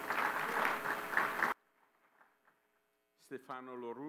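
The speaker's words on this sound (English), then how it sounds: "Please give him an applause" Audience applause for the Mayor of Ramallah at a city climate-resilience gathering: loud, dense clapping for about a second and a half, then it cuts to near silence before a voice begins speaking.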